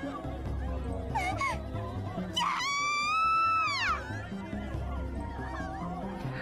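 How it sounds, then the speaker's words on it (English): Students screaming in the visual novel Chaos;Child, a high, rising shriek that holds and falls away over a low droning background, with brief gasps before it. "Arumura began to scream, her voice joining the cacophony created by the other screaming students"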